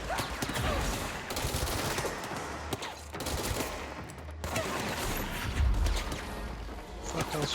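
Rapid bursts of gunfire in the video game Control fill the whole stretch, dense and loud, with a heavy impact or crash partway through and continuous overlapping shots.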